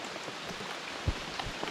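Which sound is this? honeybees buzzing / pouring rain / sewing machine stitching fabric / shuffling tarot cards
pouring rain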